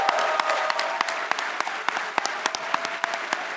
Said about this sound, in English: How about a quick second here for a round of applause for Drew Scanlon?